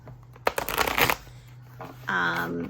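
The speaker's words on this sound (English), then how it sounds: "I'm going to be live shuffling for you guys" A brisk riffle of tarot cards shuffled up close, a short flurry of flapping and slapping, followed by a pause and then a voice speaking.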